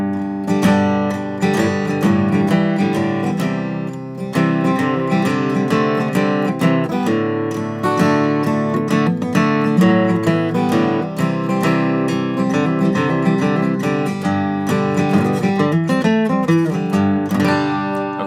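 Acoustic guitar chords ring out steadily and close up, embellished with hammer-ons, pull-offs and slides between strums, played alone without any talking.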